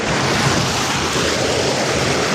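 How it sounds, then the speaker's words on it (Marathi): A village waterfall roars as a steady, dense rush of falling water, loud and close throughout with no breaks and no voices. "गावानं हे बघा वॉटरफॉल. गावाकडचा वॉटरफॉल"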